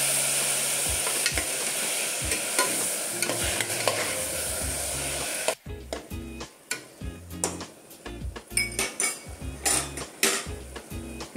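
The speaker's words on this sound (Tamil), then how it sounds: "பாருங்க வெங்காயம் வதங்கினது போது இப்போ இதோட தக்காளி சேர்த்துக்கலாம்" Onions sizzle and crackle steadily in a hot pan as tomato is added, then the frying quiets as a utensil scrapes and clinks against the pan in quick irregular strokes.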